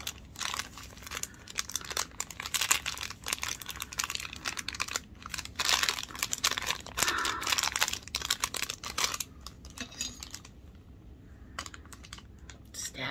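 Close, rapid crinkling and tearing of plastic packaging on Nightmare Before Christmas Disney Doorables toys, with irregular rustles and crackles, easing off toward the end.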